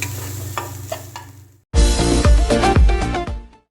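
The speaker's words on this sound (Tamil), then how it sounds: "இப்போ இஞ்சி பூண்டு இடித்து வச்சதை போட்டுடலாம்" Crushed ginger and garlic hit a hot pan for crab soup with a sudden loud sizzle that keeps crackling and popping, after a quieter stretch of light stirring.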